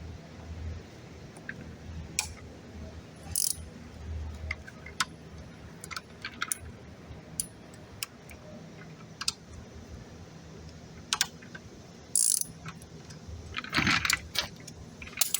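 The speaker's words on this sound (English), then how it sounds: "12 millimeter socket, and it's just 2 bolts you'll need to take off" A 12 mm socket wrench works loose the two brake caliper bolts on a 2007 Suzuki GSX-R1000's front brake, giving scattered metallic clicks, ratcheting ticks and clinks at close range, no talk.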